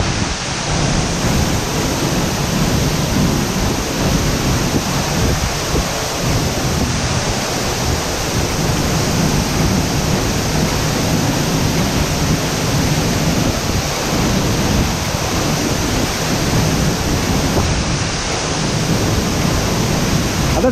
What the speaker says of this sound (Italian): Adesso mi trovo dietro la cascata.